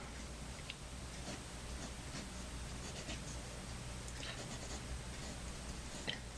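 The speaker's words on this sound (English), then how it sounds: "now we're going to do the writing sample" Medium nib of a Kaweco Sport Classic fountain pen writing on paper, soft faint scratchy strokes in an irregular rhythm over a quiet background hum.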